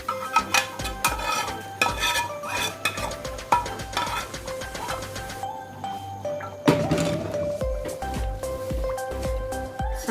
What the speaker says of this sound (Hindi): अब हम इसमें ये जो तड़का हमने बनाया वो डाल देंगे।